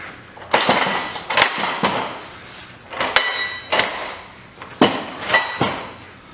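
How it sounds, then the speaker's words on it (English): An anvil being set back onto its wheeled caster stand gives a series of heavy metallic clanks and knocks, about eight or nine uneven impacts over several seconds, close and fairly loud. "So let me go ahead and put my anvil back on."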